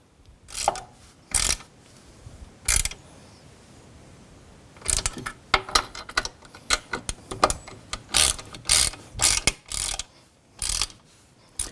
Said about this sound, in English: So I'm using the small ratchet so I don't have too much torque from the bottom